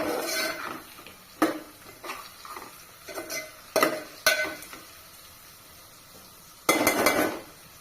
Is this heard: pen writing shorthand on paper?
no